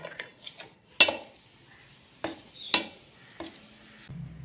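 Paneer is mixed and coated with spices in a bowl: a few scattered clinks and taps of utensil on the bowl with soft rustling between them, close and fairly quiet, no talk.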